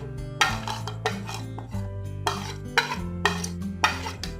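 Leftover cabbage, green chili, carrot and capsicum tossed into a pan, giving a series of scraping, clinking stirs and spoon knocks against the metal at a steady, close rhythm with no talk.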